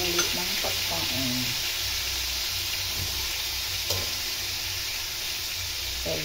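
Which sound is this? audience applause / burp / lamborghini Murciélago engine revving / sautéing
sautéing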